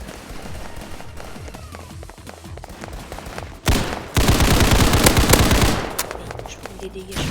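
Rapid gunfire in the video game Hypershot, with sharp repeated shots running through a busy game mix and then a dense loud burst of firing.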